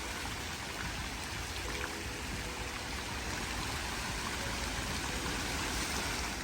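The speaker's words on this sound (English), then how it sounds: "The main street has fountains all along it." Water fountains along a main boulevard in Romania splash and rush in a steady, unbroken wash of falling water, moderately close with no voices over it.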